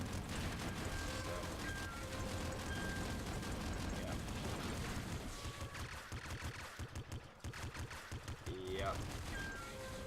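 Dense, continuous gunfire and explosions from the video game Nuclear Throne during a boss fight, steady and loud for several seconds and then broken into choppier bursts, with someone briefly talking over it.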